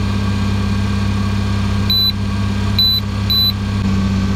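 A car engine idles steadily in a low, even hum, with a few short electronic beeps from an OBD2 scan tool rising over it.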